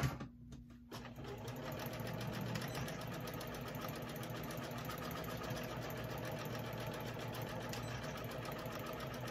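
A sewing machine stitches a denim patch onto the knee of work pants, sewing forward and backward. A steady, close mechanical whir runs almost without a break after a brief stutter at the start.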